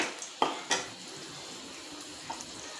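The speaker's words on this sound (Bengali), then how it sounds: "দেখো এবার আমি তেজপাতা গোটা এলাচ লবঙ্গ ডালচিনি তেলের মধ্যে দিয়ে দিচ্ছি হালকা করে ভেজে নেবো" Bay leaf, green cardamom, cloves and cinnamon drop into hot oil, two quick metallic clinks followed by a soft, steady frying hiss close by.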